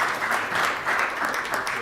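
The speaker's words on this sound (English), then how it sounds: "let's have a round of applause for these" Applause from an audience at a cybersecurity hackathon winners' announcement, a steady, dense clapping that lasts the whole moment with slight swells and no voices over it.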